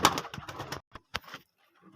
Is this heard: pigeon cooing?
yes